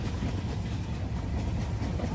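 The Dhumketu Express running from Dhaka to Rajshahi heads onto a new bridge, a constant low rumble of rolling wheels and carriage noise heard from onboard, steady and without talk.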